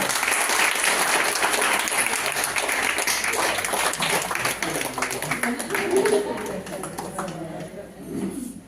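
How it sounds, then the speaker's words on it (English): Audience claps for a retiring hospital surgeon at his farewell gathering, loud and continuous at first, then thinning out as a voice begins speaking over the fading applause. "Give him a big hand of applause."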